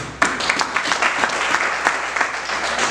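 A church congregation claps together at a sermon, a dense, steady round of applause from a crowd indoors lasting a few seconds.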